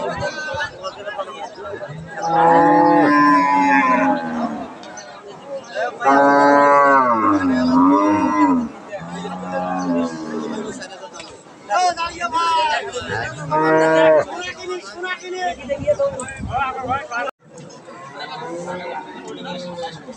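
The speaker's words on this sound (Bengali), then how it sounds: "এটা একটা ফ্রিজিয়ান গাভি" A Friesian dairy cow moos several times in long, loud, drawn-out calls at a cattle market, with people chattering nearby between and under the lowing.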